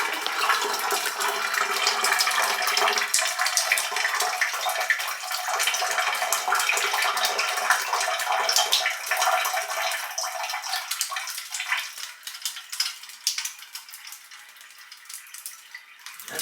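Shower water running and draining in a home bathroom, a broad hissing wash that is fairly steady at first, then thins out and fades toward the end, heard alone.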